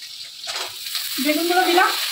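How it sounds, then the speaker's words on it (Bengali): Eggplant pieces frying in oil give off a continuous, moderate hiss and crackle that holds steady, with a person's voice speaking over the sizzle in the latter half. "এবার আমি বেগুনগুলো দিয়ে একটু ভেজে নিব।"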